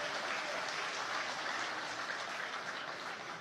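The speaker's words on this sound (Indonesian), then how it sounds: "Tepuk tangan dulu untuk semua yang hadir di sini." An audience at an evening gathering claps in a continuous, dense burst of applause, steady and moderately distant, with no speech over it.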